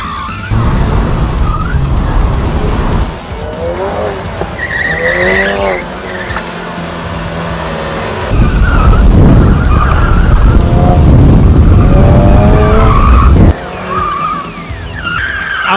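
Ford Focus RS BuzzCar sliding its rear on a race track, with loud, continuous tire squeal and skidding over a roaring engine that swells and drops in waves throughout.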